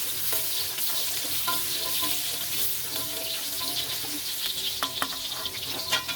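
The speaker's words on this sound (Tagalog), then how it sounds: "Ngayon, yung carrots naman ang isa-fry." Carrots fry in a pan for beef callos, giving a steady, close sizzle with scattered crackles and pops, plus faint stirring scrapes, and no voices.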